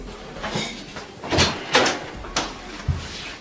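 A door is banged on and thrown open in a comedy customer service sketch, with several loud knocking thuds and a rattling clatter, close and fairly loud.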